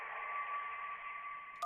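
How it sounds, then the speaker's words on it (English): A telephone ringing underwater, a sound effect in the game Kentucky Route Zero, heard as a steady muffled electronic warble that holds for under two seconds before an abrupt shift at the end, with no voices. "That was a phone ringing underwater."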